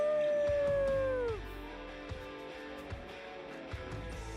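A werewolf in the Sims 4 video game lets out one long, loud howl that falls in pitch and fades out, followed by quieter game sounds and soft clicks.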